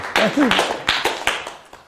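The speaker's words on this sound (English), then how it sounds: "How about another warm round of applause for Jim?" A handful of spectators clap for a volunteer named Jim at a magic show, a few sharp, separate claps trailing off while a voice speaks briefly over them.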